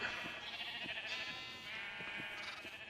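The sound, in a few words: sheep bleating in the video game Minecraft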